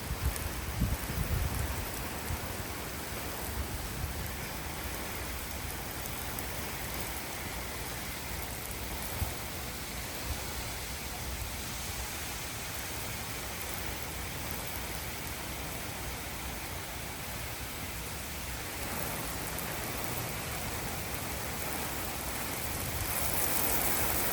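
Steady rain falls at the onset of Hurricane Helene, a soft continuous hiss of drops on surfaces, fairly faint and even throughout with no voices.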